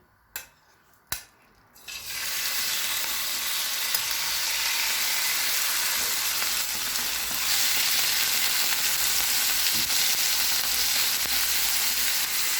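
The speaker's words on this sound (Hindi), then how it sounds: "एक पैन लेंगे, इसमें 1 चम्मच ऑलिव ऑयल डालेंगे, मैरिनेट किया हुआ चिकन डालेंगे," Marinated chicken hits a spoonful of hot olive oil in a pan, giving a loud, continuous close sizzle and frying hiss after a couple of brief clicks.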